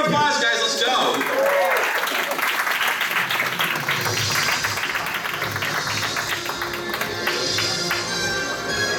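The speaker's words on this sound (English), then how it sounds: "give a round of applause, guys" Audience applause at a convention game show, a steady wash of clapping that fills the room throughout, with voices and cheers mixed in beneath it.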